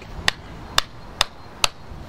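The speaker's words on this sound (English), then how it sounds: "knock it in, give it a good knock." A hammer drives a stake into the ground while a firework cake is being set up: four sharp, solid knocks, evenly spaced about half a second apart, close and clear with no talking.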